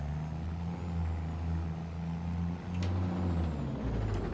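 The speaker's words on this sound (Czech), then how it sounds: "Tam ta motorová brzda úplně." A heavy truck engine in Farming Simulator 22 drones steadily with a low rumbling pitch that dips and rises as the engine brake holds, with faint hiss above.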